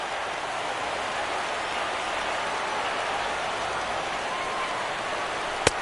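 Steady rain falls at a Blue Jays versus Indians ALCS playoff baseball game, a constant broad hiss throughout with one sharp crack near the end.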